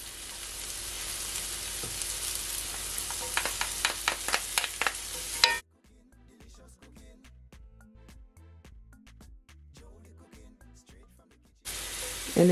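Garlic sautés in a hot pan, giving a steady bright sizzle with stirring clicks. Midway the sizzle drops to a quieter stretch of faint taps and scraping, then returns loudly at the end.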